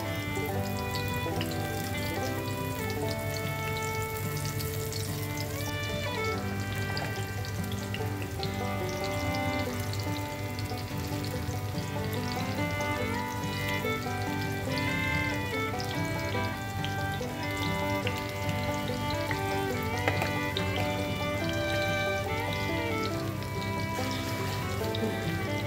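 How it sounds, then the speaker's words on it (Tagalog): Fish frying in a pan over low heat gives a steady, continuous sizzle and crackle throughout, with no talking. "Prito natin sa mahinang apoy lang."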